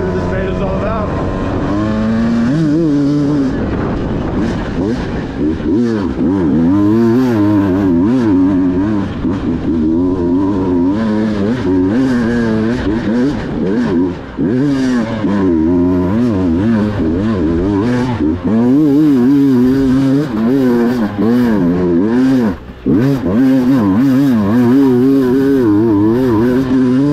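A Beta 200RR Race Edition dirt bike climbs a steep hill, its two-stroke engine loud and close, revving and warbling continuously with rising and falling pitch for the whole stretch.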